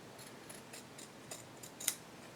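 Scissors snipping through a piece of patterned craft fabric for a shabby Victorian journal, a series of soft, quiet cuts spaced irregularly with one sharper snip near the end.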